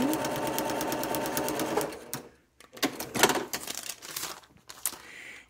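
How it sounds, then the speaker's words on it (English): A sewing machine stitches a fabric seam for a quilt block, starting with a steady rapid needle rhythm, then continuing as shorter, uneven bursts with fabric handling and small clicks, close and fairly quiet. "Slip that in the machine. Sew that seam."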